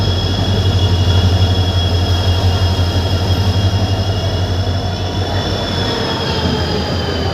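Rumbling train rolling steadily past at a railway station, with a constant low drone and a faint high whine from the wheels.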